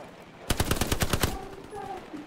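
Automatic machine-gun fire in the WWII shooter Hell Let Loose, a sharp, loud burst of about ten rapid shots over roughly a second, then a fading tail with faint background game tones.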